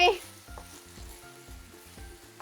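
Pork pieces stir-fried in a pan with rosemary and herbs sizzle steadily, with a rhythmic series of scraping utensil strokes repeating about every half second, close and moderately loud, no talking.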